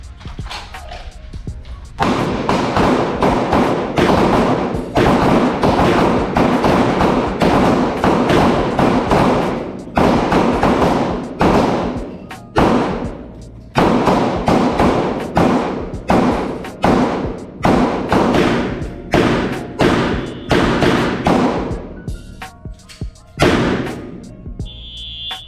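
Gunfire on a firearms instructor training range: many sharp, loud shots crack in irregular bursts, some overlapping from several shooters along the line, with brief pauses between volleys.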